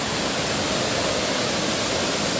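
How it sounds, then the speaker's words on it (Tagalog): Mamala Falls, a waterfall in Sariaya, Quezon, pours as a loud, dense, unbroken roar of rushing water filling the whole clip, close by and steady. "natagpuan na po namin ang Mamala Falls"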